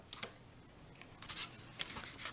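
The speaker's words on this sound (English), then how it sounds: "I'm going to go ahead and grab my snips and just trim that off real quick" Small craft snips cut through the excess card stock overhanging a handmade card, a few quiet, crisp snips and rustles in a close, still room.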